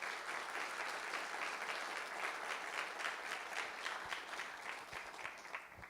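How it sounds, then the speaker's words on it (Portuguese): A crowd applauds at a credit cooperative's pre-assembly meeting, with a continuous wash of many hands clapping, some individual claps standing out, at moderate level and fading slightly at the end. "eu vou pedir aí uma salva de palmas para vocês"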